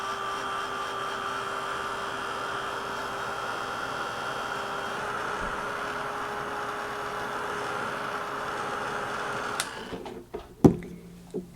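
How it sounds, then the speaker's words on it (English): A heat embossing tool blows hot air over a card in a steady, even whir for about nine seconds, then switches off with a few sharp clicks and handling knocks. "Now I haven't been using my heat tool, so it's just going to take a little bit to warm up and then it'll emboss."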